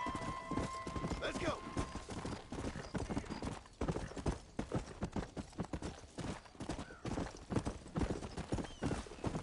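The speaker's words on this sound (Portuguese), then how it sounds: "o bom com o cavalo aqui é rápido pra caramba" Horse hooves gallop steadily in the Red Dead Redemption video game, a fast, continuous clip-clop rhythm that stays close and prominent throughout.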